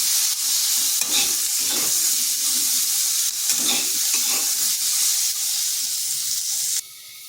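Ivy gourd with turmeric and salt frying lightly in a pan, a loud, steady hissing sizzle broken by rhythmic scraping strokes of a spatula, close up, with the sizzle dropping away abruptly near the end.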